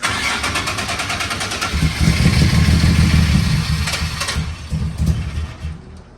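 A tube-chassis Nissan 300ZX with a naturally aspirated engine of over 500 horsepower cranks and then catches, settling into a loud, rough, close idle that rumbles steadily before easing off.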